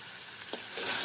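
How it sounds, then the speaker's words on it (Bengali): Shrimp frying lightly in a pan, a soft, quiet sizzle with a brief stir partway through, then a brighter hiss swelling near the end, with no one talking. "চিংড়ি মাছটা খুব বেশি সময় ভাজবো না হালকা করে একটু ভাজা দিয়ে"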